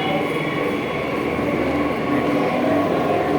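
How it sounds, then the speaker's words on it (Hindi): Steady rumble and hiss of a Delhi metro train in motion, heard from inside the carriage as a continuous, fairly loud ride noise with no pauses. "मेट्रो लेके फिर वापस जा रहे थे रूम पे।"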